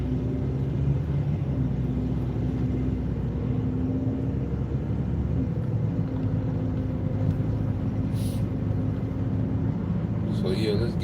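Steady low engine rumble and road drone of a car creeping along in slow traffic, continuous and fairly loud throughout, with a few faint higher sounds near the end.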